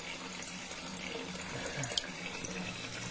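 Water poured steadily into a cooking pot to cover meat, a continuous close splashing stream from a tap that keeps a fairly even level throughout.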